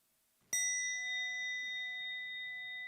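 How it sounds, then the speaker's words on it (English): Meditation bell struck once, a clear bright strike after a moment of silence followed by a pure, sustained ringing tone that slowly fades while still lingering, heard alone and close. "listen to this wonderful sound of the bell"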